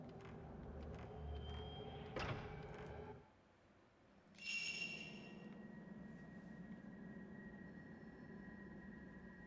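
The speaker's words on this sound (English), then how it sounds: "is it that freaking whistling sound that's been playing occasionally?" A thin, steady whistling tone from the horror video game Fatal Frame 3: The Tormented rises after a brief lull and holds faintly over a low, murky game ambience, with no talking.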